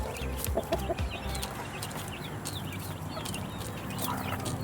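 Chickens cluck intermittently amid a busy outdoor farmyard background, with a few sharper bird calls scattered through and a steady low ambient hum.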